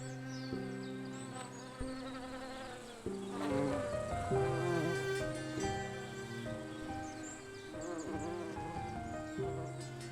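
Native honey bees buzz in the forest of Hirkan National Park, a close, layered drone of wings whose pitch rises and falls as individual insects pass near, continuous throughout.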